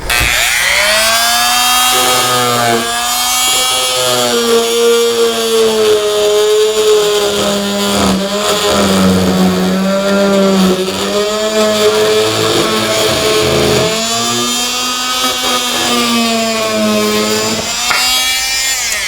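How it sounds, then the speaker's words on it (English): A Dremel Multi-Max MM30 3.3 amp oscillating tool cuts through a PVC deck rail, a loud, steady, close buzzing whine that holds for the whole stretch with small shifts in pitch as the blade bites. "I'm going to cut through it now, and I'm going to let you see how easy it is"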